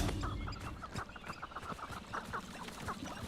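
Chickens cluck and chatter steadily in the Hogwarts Legacy video game, with many short repeated calls over a continuous background ambience and no one talking.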